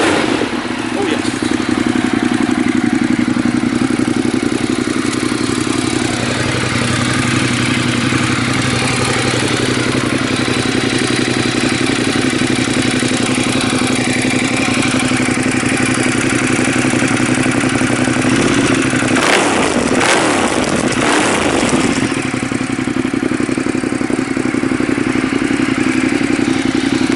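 A Ducati Monster 1200R motorcycle idles loud and steady at close range with a deep throb, then revs briefly near the end before settling back, while someone talks over it.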